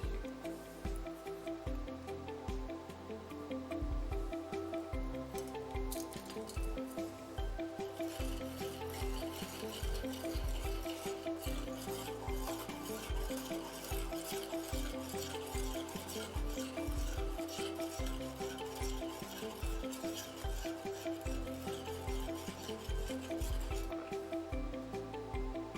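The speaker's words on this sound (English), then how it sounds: "we choose one of the salts and we dissolve a spoon into the bowl" A spoon stirs salt into a bowl of water, giving a steady, busy run of swishing and scraping that carries on without a break for nearly half a minute, with no voices.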